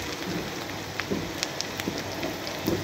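Meat and onions sizzling in a pan for mutton do pyaza, a steady crackling hiss with scattered sharper pops, fairly close and without talk.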